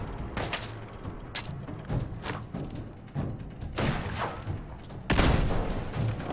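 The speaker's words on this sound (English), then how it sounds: "Didn't hit him, but that was a pretty funny explosion." Explosions and bursts of gunfire in Fallout 4 hit in irregular bursts, with sharp cracks and heavy booms that grow louder toward the end, over a low rumbling game background.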